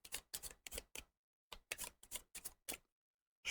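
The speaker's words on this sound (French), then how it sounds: "je ne sais pas si j'avais mélangé le paquet, donc je le remélange vite fait" A deck of board game cards is riffle-shuffled by hand, giving two quick bursts of rapid crisp flutters and taps separated by a short pause, close and fairly quiet, with no voices.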